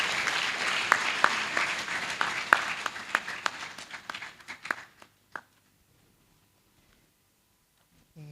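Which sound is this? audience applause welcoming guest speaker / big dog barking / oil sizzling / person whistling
audience applause welcoming guest speaker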